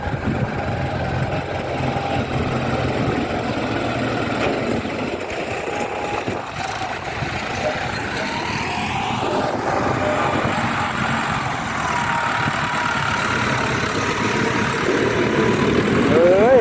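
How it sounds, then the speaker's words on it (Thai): A large tractor ploughing a dry, hard rice field, its engine running steadily and loud throughout with a constant droning rumble that swells slightly toward the end. "ฟังเสียงไถรถพี่น้องเลยกวักกวักกวักกวัก"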